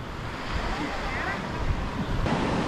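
Ocean waves break and wash continuously at Ettikkulam beach, a close, steady surf roar mixed with wind noise, and a voice is faintly present.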